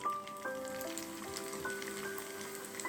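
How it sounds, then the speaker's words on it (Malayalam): Bird's nest snacks fry in hot coconut oil with a steady, close, crackling sizzle and scattered pops throughout, and no voices. "എണ്ണ ചൂടായിട്ടുണ്ട്, ഓരോന്നായിട്ട് നമുക്കിട്ട് ഫ്രൈ ചെയ്ത് എടുക്കാം."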